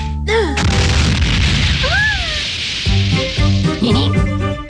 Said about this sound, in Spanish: Es la ocasión perfecta para utilizar una bomba de humo ninja.